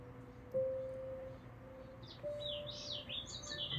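Sparrows chirp faintly at a distance, a few short high tweets in the second half over a quiet hum, with no voices.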